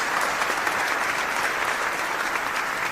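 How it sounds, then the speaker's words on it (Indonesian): Audience applause in a microteaching training session, a thick, even burst of many hands clapping together, loud and unbroken with no talk over it. "tepuk tangan buat kita semua ya Bapak Ibu ya"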